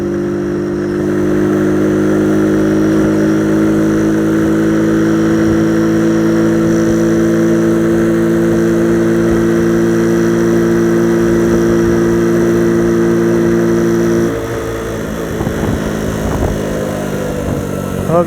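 A 50cc motorcycle rides downhill with a steady, loud engine drone, its pitch holding for most of the ride before the throttle eases near the end and a brief rumble follows.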